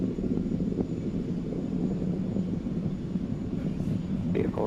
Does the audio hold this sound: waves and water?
no